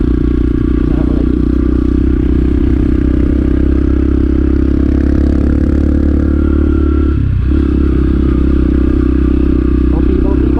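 A motorcycle engine under partial throttle while riding, a loud, close, steady mid-pitched drone with rattling clatter, briefly dipping once before picking back up.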